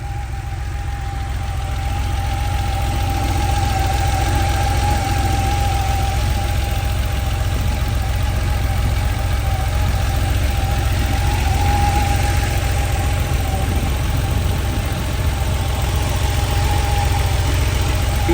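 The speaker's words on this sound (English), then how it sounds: "Motor sounds great." A 1986 Porsche 911 Coupé engine idling, a steady, even rumble with a faint whine running throughout, close and loud with no voices over it.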